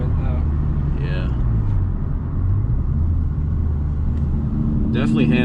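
A 2019 Hyundai Veloster R-Spec driving with the windows down gives a loud, steady engine rumble and road roar close by, with the engine tone shifting slightly and people talking over it.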